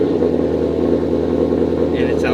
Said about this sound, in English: so this is a cold startup.